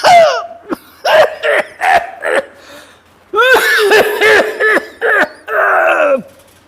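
Repeated coughing fits in a short drama scene, with loud harsh bursts in clusters and gaps between them, strained and groan-like, close to the listener.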